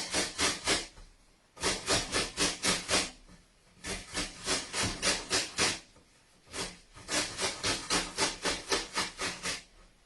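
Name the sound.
grating apples for beetroot and apple coleslaw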